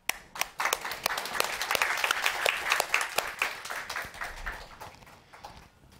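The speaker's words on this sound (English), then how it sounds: "Give these guys a round of applause." Applause from a small group at a Raspberry Pi and Java user group meetup, starting with a few sharp claps, swelling into uneven clapping, then thinning out toward the end.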